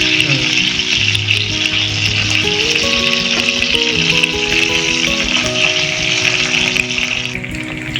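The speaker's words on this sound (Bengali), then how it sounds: "গরম হয়ে গেছে তেলটা, মাছটা ভেজে নিয়ে।" Katla fish sizzling loudly in a pan of hot oil and butter, an unbroken crackling hiss heard up close for the whole stretch, with music running underneath.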